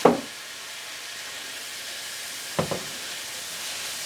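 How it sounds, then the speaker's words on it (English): Mushrooms and garlic sautéing in oil in a pan, a steady soft hiss of sizzling broken by two brief clatters of stirring, one at the start and one midway. "Now I want to saute the mushrooms with the garlic for a few minutes."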